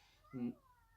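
A house cat lets out a single short meow, close and fairly loud, in an otherwise quiet indoor room.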